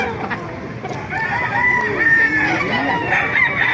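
Roosters crow repeatedly at a chicken market in Baliuag, Bulacan, several birds overlapping at close range, loud and clear with no talking.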